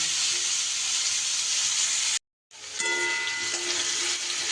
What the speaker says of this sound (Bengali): মিনিট দুয়েক আমি কুমড়ো আর আলু এইভাবে তেলের মধ্যে একটু ভাজা ভাজা করে নেব